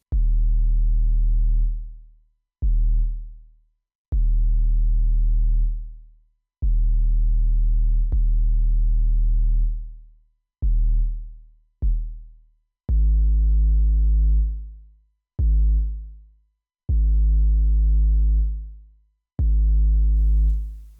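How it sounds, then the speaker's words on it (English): A raw synth bass made with the Massive plugin thumps out about a dozen deep, clean sine-like notes of varying length with sharp attacks and gaps between, loud and alone for a trap-style beat. "the raw bass sound that I made with Massive"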